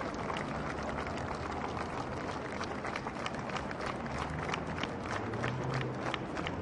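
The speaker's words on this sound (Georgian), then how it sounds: "საკუთარმა თანამშრომლებმა ირაკლი ალასანიას ტაში ბოლოჯერ დაუკრეს თავდაცვის სამინისტროში" Applause from Ministry of Defence staff bidding farewell to Irakli Alasania, a dense crowd clapping steadily throughout, moderately loud, with a few crowd noises mixed in.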